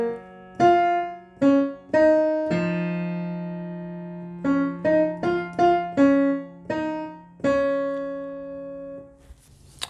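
Piano plays part of the chorus of a song, an easy arrangement of single struck notes in an uneven rhythmic pattern over a held low bass note, close and clear, with no talking.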